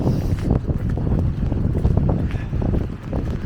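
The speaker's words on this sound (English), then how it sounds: "Oh, really windy here at the waterfront." Strong wind buffets the microphone at a Stockholm waterfront on a rainy day, producing loud, continuous low rumbling gusts with no talk over it.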